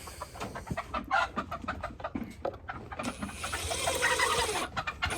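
Chickens cluck in an outdoor yard, a busy run of short, clipped calls repeating at close range with a steadier rasping noise partway through.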